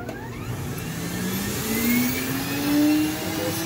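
A vacuum cleaner switched on to suck up wasps runs as a steady loud whirring drone throughout, its pitch rising slightly and wavering as the motor spins up, with no talking.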